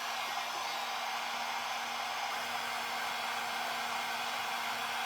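Steady, continuous rush of a heat gun blowing hot air over DIY coasters, loud and unbroken with a faint constant hum, no voices.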